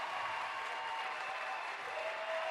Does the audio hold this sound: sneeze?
no